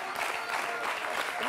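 A studio audience applauds on a television talk show, dense continuous clapping close and fairly loud, with a voice faintly audible underneath.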